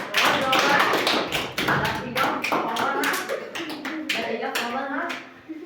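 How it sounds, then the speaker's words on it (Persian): A group of people claps hands steadily and densely, a continuous close patter of applause that fades slightly toward the end, with voices mixed in underneath. "خوبه تشویقش کن."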